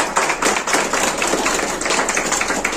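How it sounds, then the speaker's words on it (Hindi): Loud, sustained applause from an audience welcoming the branch leader and staff at a Bank of India branch inauguration in Skara market, Leh, with dense overlapping claps throughout. "इन सबका एक जोरदार ताली स्वागत है"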